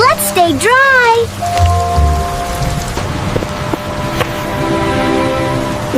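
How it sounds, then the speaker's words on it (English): Rain falls steadily as a sound effect in a children's science lesson, a continuous hiss under sliding cartoon-like tones and soft musical notes. "Uh-oh, rain is falling."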